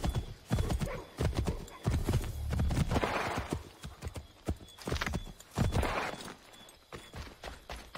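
Horse hooves clip-clop in a steady trotting rhythm through Assassin's Creed 3 gameplay on the Davenport Homestead, fairly close and loud, with whinnies and game ambience mixed in.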